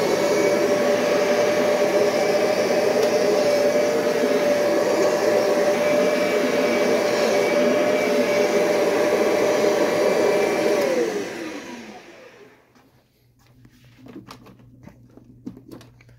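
An upright vacuum cleaner runs with a loud steady drone and whine, off the carpet and in need of a new belt, then switches off and winds down into faint clicks and handling noise.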